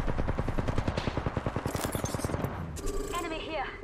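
Rapid automatic gunfire from enemies in Apex Legends, a fast rattling stream of shots that breaks off into chaotic impacts and whizzing effects, mixed with other game noise.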